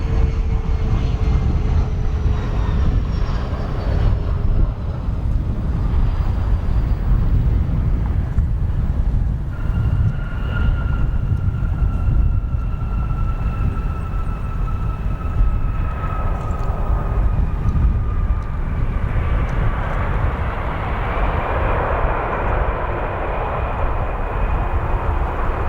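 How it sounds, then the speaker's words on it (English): A CRJ-200 regional jet coming in to land on a runway at Chicago O'Hare airport, its steady jet roar and rising whine sustained and loud throughout, with no talking. "we have 3 CRJ-200 back to back to back coming on this runway"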